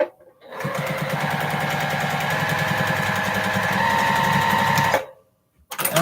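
A sewing machine runs a seam in one continuous fast stitching burst lasting about four and a half seconds, loud and close, with its rapid mechanical rattle and hum stopping abruptly into near silence; no talking.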